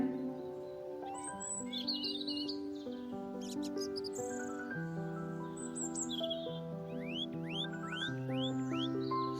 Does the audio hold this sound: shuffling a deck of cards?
no